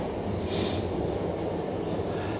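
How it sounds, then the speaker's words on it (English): A train rumbles past nearby in a forest, a steady low roar with a brief hiss of higher noise partway through, no voices. "Oh, there's a train coming."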